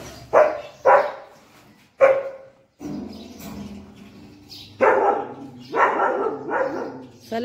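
Several dogs bark in sharp, loud bursts, close by, with pauses between them and some softer yips and whimpers filling the gaps.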